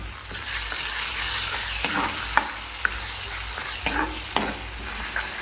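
Homemade village-style masala fries in oil in a pan while being stirred, a steady low sizzle punctuated by several sharp clinks and scrapes of the spoon, close and moderate in level, with no talking.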